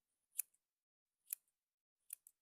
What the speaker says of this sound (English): with a scissors, I'm just going to chop